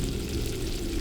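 Acid sizzling on contact, a brief, faint, dense hiss and crackle that stays steady throughout, like liquid frying against a surface.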